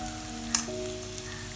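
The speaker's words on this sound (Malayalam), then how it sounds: "ഞാൻ ഈ ഒരു സവാള കട്ട് ചെയ്തത് കൂടെ ഇട്ട് കൊടുക്കുകയാണ്" Chopped onion and green chilli fry in a pan for stingray fish curry, giving a soft, steady sizzle with a brief clink partway through, alone and without talk.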